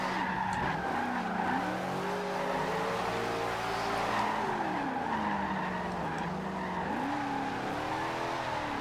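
A Shelby Cobra 427 in Forza Horizon 2 slides with a sustained tire squeal whose pitch wavers up and down over a steady engine drone, loud and close with no talk.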